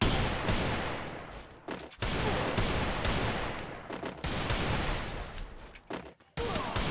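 Free Fire gunfire rattles in rapid, loud bursts of automatic shots, nearly continuous with a few short pauses between volleys, close and harsh with no talking over it.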